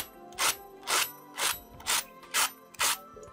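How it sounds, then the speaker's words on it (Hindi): Crunchy fried maize-flour puri broken into pieces: six sharp, evenly spaced crisp cracks, close and clear, with quiet pauses between them. "आप सुन सकते हैं कितनी क्रंची पूरी बनी है।"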